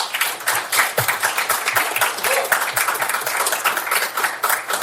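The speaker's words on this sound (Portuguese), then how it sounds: "eu gostaria uma salva de palmas para vocês mesmos." Audience clapping at a seminar talk on app-based rentals, a dense, steady burst of many hands applauding at close range throughout, with no talk over it.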